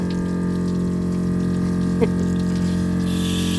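Water flushes through a neglected, rusty Toyota Tacoma cooling system, engine and heater core, a constant pump-like hum and rushing flow with one brief splash midway.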